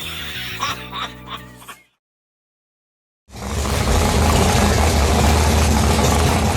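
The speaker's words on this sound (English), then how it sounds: "Every engine lover knows that sweet sound of an engine that is ready to race." A loud, continuous race car engine roar rumbles steadily after a short silence, preceded by brief music and laughter.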